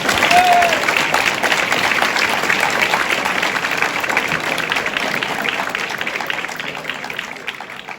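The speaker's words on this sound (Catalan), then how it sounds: "Un aplaudiment per vosaltres." An audience applauds graduating second-year Batxillerat students at a school farewell ceremony, with steady, dense clapping that stays loud throughout and fades only slightly near the end.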